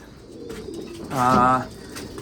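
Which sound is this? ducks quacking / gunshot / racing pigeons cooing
racing pigeons cooing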